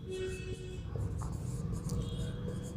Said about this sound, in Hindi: यहाँ लिखेंगे